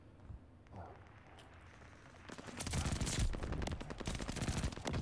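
Gunfire in Call of Duty Vanguard, rapid automatic bursts of shots building up close and loud after a quieter stretch of game noise.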